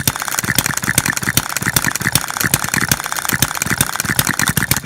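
A small scratch-built hit and miss model engine chugs in a fast, steady mechanical rhythm, loud and close, with clicking valve and ratchet-like beats from the governor and no voices.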